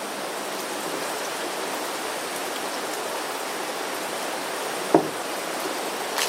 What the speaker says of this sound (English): it's a chilly day and raining